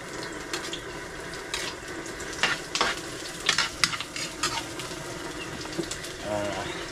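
Ingredients sauté in a hot pan for a Filipino ginataang dish, with a constant low sizzle broken by several louder scraping stirs of a spatula near the middle.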